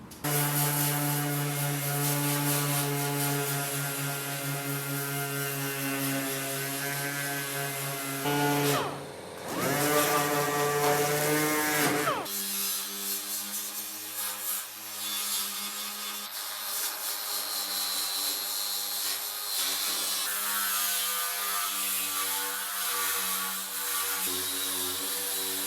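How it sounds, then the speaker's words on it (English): A dual-action sander and a wire wheel work over Volkswagen Beetle body metal around the rear window, prepping it for welding: a steady, loud whirring drone with a brief dip and shift in pitch partway through, then continuing without talk. "let's get the DA and the wire wheel and get this all ready for welding."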